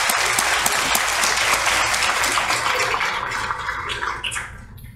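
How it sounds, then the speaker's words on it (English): Loud, dense applause from a reception crowd honouring the event planners, a thick wash of many hands clapping that holds steady and then gradually thins and fades toward the end. "the rest of us just want to give you a round of applause wherever you are."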